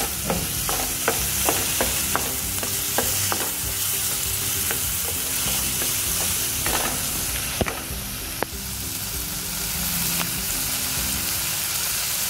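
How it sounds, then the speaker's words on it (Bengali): Chopped tomato, potato, onion and green chilli fry in a pan, a steady close sizzle with repeated sharp clicks and scrapes of stirring throughout, no voices. "টমেটো কুচানো, আলু, পেঁয়াজ কুচানো, কাঁচা লঙ্কা কুচানো সব ভাজা হয়ে গিয়েছে।"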